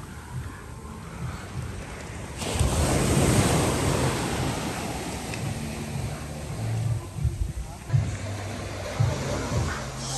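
Ocean waves rolling in along the El Nido seafront in the Philippines, a steady loud wash of surf with gusts of wind buffeting the microphone throughout.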